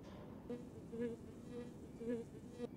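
A faint, thin mosquito buzz whines in short recurring swells over a quiet background, in the video game Skulls of the Toltecs.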